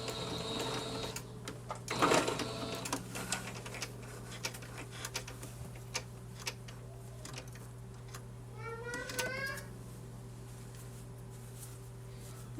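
A sewing machine backstitches a seam on a baby Moana outfit, giving a soft mechanical whir with a few quick bursts and clicks over a steady hum, alongside a brief cat meow.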